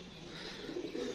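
Pigeons of a mixed village flock kept by home breeders in Punjab, soft overlapping coos and low bird murmurs at a quiet level, continuous with faint ambient background.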